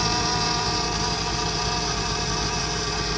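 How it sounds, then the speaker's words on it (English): A 2008 Mercedes C300 with a power steering fault gives off a steady, continuous whine over the engine's idle hum. It is close and unchanging throughout, with no talking. "You hear that whining noise? That's coming from power steering."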